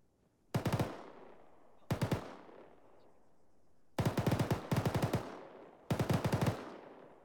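Bipod-mounted machine gun firing in a video game, five short bursts of rapid shots separated by pauses, each burst loud with a ringing tail.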